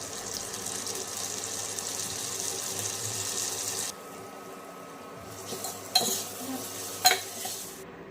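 Turmeric and red chili powder being stirred into fried sambar ingredients in a hot pan: a steady sizzling hiss, followed by a few sharp scraping clinks of the spoon near the end.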